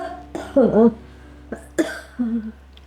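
A few short coughs and throat sounds spaced across a quiet moment, with brief voiced bursts between them, close to the listener.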